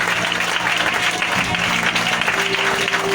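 A church congregation at a worship service applauds and cheers loudly and continuously, a dense wash of clapping with voices mixed in.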